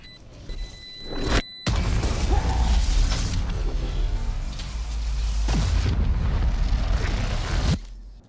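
Spike plant in a Valorant match, a dense mechanical rumble with booming, creaking effects and a brief cutout, sustained for several seconds before ending abruptly.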